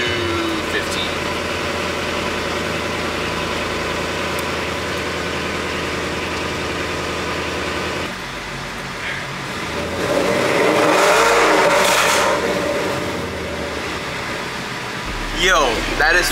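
A car engine in a racing setting holds a steady drone and then revs up loudly around the middle before settling back, with people talking over it throughout.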